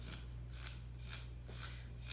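A nail file dragged across orchid potting medium gives five quiet, brief scratchy strokes in a steady rhythm, close up, sitting over a persistent low hum.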